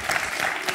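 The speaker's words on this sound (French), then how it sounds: "Applaudi par Fanny." Studio audience applause on a French TV quiz show, a brief burst of dense, close clapping that stays level throughout.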